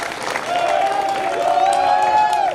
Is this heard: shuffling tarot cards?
no